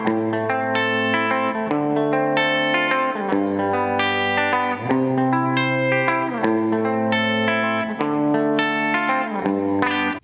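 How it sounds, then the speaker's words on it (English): A Les Paul electric guitar on its bridge pickup from a 490AT set plays through an amp with a clipped, distorted tone, loud chords and riffs ringing out in a steady rhythm, no talk. "It definitely has a bit more of a clipped out sound, and that's just because the pickup is naturally creating more gain into the amp."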